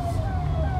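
An ambulance siren wails steadily, its tone sliding slowly, over a loud rumble of road and engine noise from inside a vehicle.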